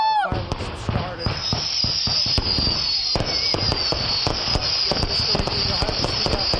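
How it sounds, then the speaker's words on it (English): Rapid Fourth of July fireworks crackle and pop continuously, with sharp bursts and a steady hiss, somewhat distant, with some voices faintly underneath. "the fireworks have started"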